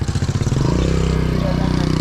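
A motorbike with an oil-leaking, overheating engine runs while riding, its rhythmic thumping exhaust climbing into a steady, loud drone close by, on a road trip near the Vietnam–Laos border.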